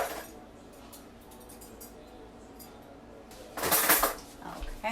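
Metal whisk attachments clink and click into a stand mixer in a home kitchen, a faint rattle followed by a louder burst of metallic clatter near the end.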